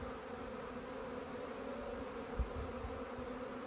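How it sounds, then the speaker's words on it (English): Bees buzz steadily at a hive as foragers return, a dense, continuous hum close by with no speech, one brief soft bump near the middle. "the bees get a little bit noisier just because there are more and more returning"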